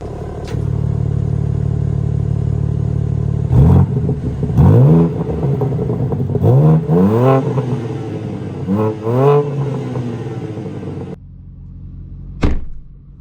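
A 2023 BMW M3 Competition xDrive engine idles in park with a deep steady rumble, is blipped through several sharp revs, then drops back to a quieter idle.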